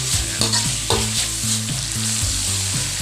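Pork with garlic being stir-fried in a wok, a steady close sizzle broken by a regular scrape-and-toss rhythm of the spatula every half second or so, with no voices.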